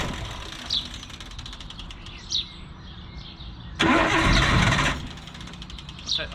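A fan striking a part inside the engine bay of a Nissan Cefiro with an RB25DET engine gives a short burst of loud clattering noise, with faint chirps and background hum around it.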